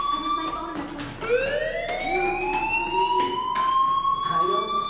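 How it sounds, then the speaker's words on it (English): A fire alarm rings in the video game Life is Strange, a steady rising electronic tone that sweeps upward and holds loud and continuous over faint background sound. "Hey, do you hear that fire alarm?"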